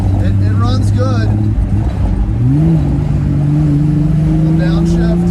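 A Triumph TR6 engine revs near and loud, pitch sweeping upward as it climbs through a downshift, a steady droning tone holding underneath with a voice talking over it early on.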